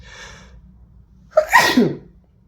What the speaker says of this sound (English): oh goodness, I'm about to sneeze.